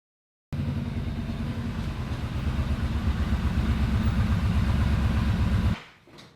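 A Yamaha VStar 1300 motorcycle engine runs with a steady, loud low throb that builds slightly and then cuts away fast near the end as the bike rides off.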